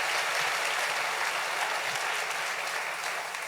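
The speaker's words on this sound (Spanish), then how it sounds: "denle un aplauso fuerte al rey" Church congregation applauding loudly and steadily during a sermon, a dense wash of clapping that fills the whole moment with no voices standing out.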